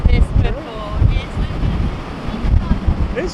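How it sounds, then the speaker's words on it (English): Storm-force wind roars at an Icelandic ferry port at night, buffeting the microphone in loud, gusting surges with a harsh, rushing texture and no talk. "I have never heard a wind like this before"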